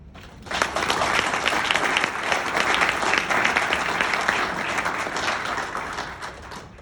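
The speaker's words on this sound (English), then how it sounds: "And I think that itself deserves also an applause." An audience at a fundraiser for rebuilding Ukraine, held in Stillwater, Minnesota, breaks into applause after a quiet start. The clapping stays dense and steady before tapering slightly at the end.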